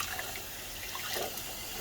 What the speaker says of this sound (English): we're just filling this whole thing up with water to dilute it all